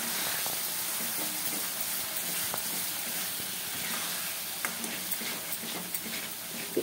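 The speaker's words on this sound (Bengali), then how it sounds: "তো এটা কেমন খুব ভালো করে মশলাটাকে কষিয়ে নিতে হবে যাতে একদম তেলের উপরে চলে আসে।" Spices fry steadily in hot oil during a home curry preparation, a continuous close sizzle and hiss with occasional small pops and stirring clicks, with no talk over it.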